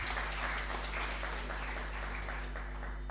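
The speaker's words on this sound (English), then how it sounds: "another clap for Dr." An audience at a harvest fair of indigenous seeds and food culture claps steadily, a dense, even wash of applause over a low hum from the sound system, continuing for the whole stretch.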